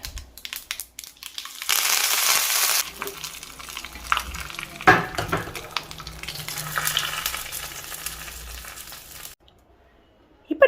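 Mustard seeds, urad dal, curry leaves and chilli powder sizzle in hot oil for a Kerala pulissery tempering, a loud crackling hiss with popping and stirring that fades before stopping abruptly.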